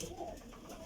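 Pigeons from a loft of Sialkoti pairs coo softly in a brief burst, faint and low against a steady background hum.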